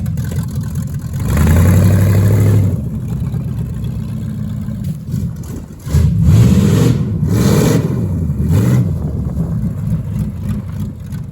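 A 1973 Barracuda V8 fitted with an Edelbrock carburetor in place of an old Holley rumbles close by, blipped into a few sharp throttle revs that rise and fall back to a loping idle.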